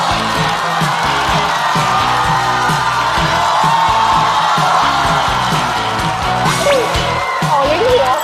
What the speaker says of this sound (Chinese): 掌声欢迎毛豆